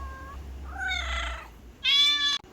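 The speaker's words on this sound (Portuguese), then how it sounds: "O gato faz." A cat meows twice up close, a drawn-out wavering mew followed by a shorter, louder, brighter one, with nothing else in the background.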